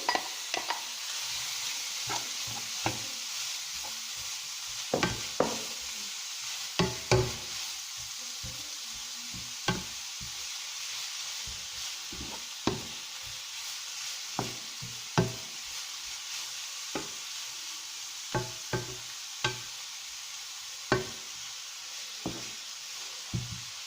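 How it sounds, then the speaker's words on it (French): Chopped onion and two grated courgettes frying in a pan, a soft steady sizzle broken by frequent sharp scrapes and taps of a utensil stirring against the pan, close by, with no voices. "Donc je fais revenir l'oignon. Je rajoute les 2 courgettes râpées."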